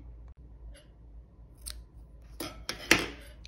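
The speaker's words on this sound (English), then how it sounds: "you get your scissor and you cut" Scissors snip through crochet yarn after the work is fastened off: a few quiet handling rustles, then two or three sharp close cuts near the end.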